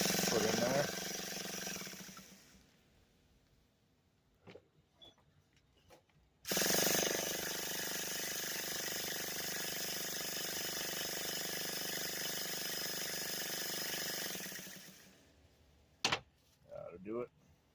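A Traxxas Revo 3.3 nitro engine with its glow plug removed is spun over to clear excess fuel, a loud steady mechanical whir that runs for about eight seconds, with quieter handling clicks before and after.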